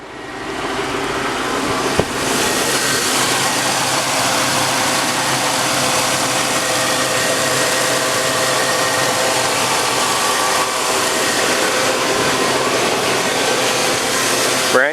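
A 2002 Chevy Avalanche engine runs at a cold-start idle, a steady, loud mechanical hum with a whirring, whining layer, close to the microphone, with a brief sharp click near the start.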